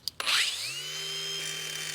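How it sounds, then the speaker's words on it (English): Power grinder spinning up and grinding the head off a stuck wheel stud during front brake work on a 2007-2013 Acura MDX, a sharp start followed by a steady, loud whining drone. "I'm just trying to grind that head off the best I can."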